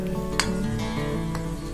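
Onion and garlic paste fries in hot oil for a dry fish curry, a steady close sizzle with a few sharper pops and a faint stirring scrape.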